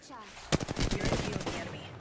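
A burst of rapid gunfire in Apex Legends, several sharp shots fired in quick succession close by, loud and alone, fading into a brief rattling tail.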